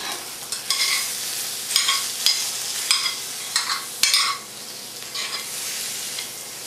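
Pork roll slices with melting cheese fry in a pan, a steady close sizzle broken by several brief louder crackling bursts, no talk.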